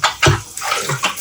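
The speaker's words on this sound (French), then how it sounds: "Là, c'était un peu sale, on va rincer." Tap water rinses dirty moka pot parts in a sink, coming as short close splashing bursts with gaps between.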